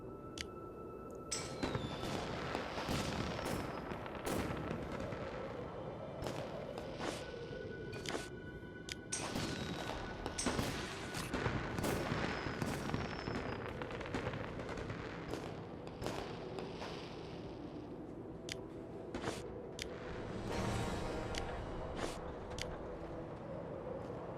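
Fireworks bursting in the mobile game Whiteout Survival, a long run of sharp cracks and booming pops in irregular clusters, some overlapping, with crackling tails over soft game music and no talking.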